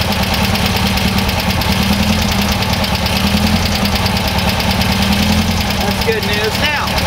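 An air-cooled VW engine with dual carburetors idles steadily and loudly nearby, a continuous even rumble with a faint brief squeak near the end.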